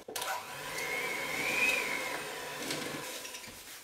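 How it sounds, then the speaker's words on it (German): An electric hand mixer beats streusel dough with almonds in a home kitchen, a steady loud motor whine running close up and without a break, then easing slightly near the end. "Und mache erstmal mit dem Mixer und dann verreibe dann zum Schluss mit den Händen."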